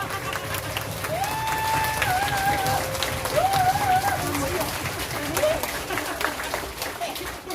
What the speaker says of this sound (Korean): 멋지게 잘 연습해준 우리 선생님들께 감사의 박수!